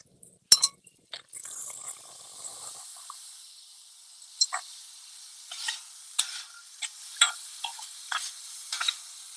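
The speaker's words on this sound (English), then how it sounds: "all I'm really doing is kind of making like a semi-refried bean that is hot through" Black beans being heated and stirred in a pan for sweet potato quesadillas, a thin steady sizzle with sharp spoon clinks and scrapes against the pan recurring every second or so, close and quiet.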